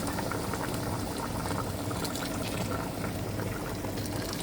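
Boiled water poured into a pot over chicken: a steady, loud rushing splash and bubbling that runs unbroken throughout, close and alone with no voices.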